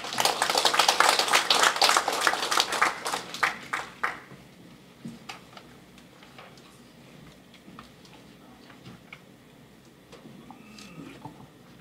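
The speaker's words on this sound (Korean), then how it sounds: "박수로 환영해 주시죠." Dense audience applause at a Korean maritime-territory policy forum, loud and sustained for about four seconds as a speaker is welcomed, then thinning into scattered claps over quieter room noise.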